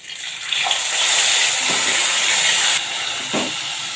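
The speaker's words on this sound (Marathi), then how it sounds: "कांदा तेलावर परतून घ्यायचा" Onion paste sautéing in hot oil, a loud hissing sizzle that swells and holds steady, with a few soft stirring knocks, close and without voices.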